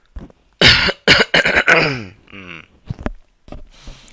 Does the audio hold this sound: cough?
yes